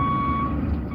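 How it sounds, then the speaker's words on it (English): A truck carrying thousands of yellow rubber ducks backs onto a bridge over the Chicago River, a steady high reversing tone sounding over a continuous low engine rumble. "A truck loaded with thousands of yellow rubber ducks pulls onto a bridge"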